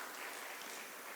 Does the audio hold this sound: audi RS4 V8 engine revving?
no